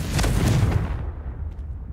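A Confringo spell explosion in Hogwarts Legacy, a loud deep boom that rolls into a rumbling low roar and slowly fades over two seconds.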